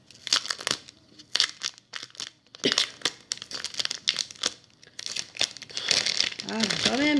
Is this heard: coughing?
no